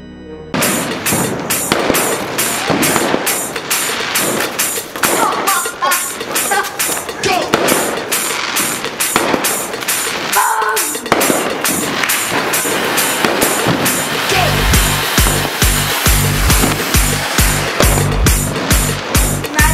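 Diwali firecrackers, including bidi bombs, going off in Punjab: a rapid, regular string of sharp cracks and pops for the whole stretch, loud and close, with deeper thudding bangs toward the end.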